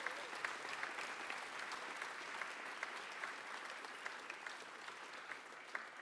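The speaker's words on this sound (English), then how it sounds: "I want to give this group one more big round of applause for an outstanding season." Applause from an audience at a school awards ceremony for a girls' team closing an outstanding season, steady dense clapping throughout with scattered sharper claps, fairly distant and uniform.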